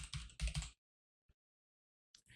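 Rapid clicks of a computer keyboard as a short phrase is typed, a close burst of keystrokes, then silence and a few more taps at the end.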